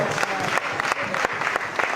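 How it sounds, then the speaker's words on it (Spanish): A church congregation applauds the Lord during a worship service, a sustained wash of clapping from many hands with a few louder individual claps standing out and murmured voices beneath. "Denle un aplauso al Señor, hermano."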